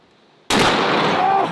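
A Fat Mac large-caliber rifle fires a single, very loud, close shot whose blast cuts in abruptly and roars on without fading.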